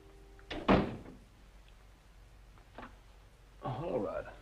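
A door shuts with a sharp, close thunk near the start. A quieter knock follows, and a voice speaks toward the end.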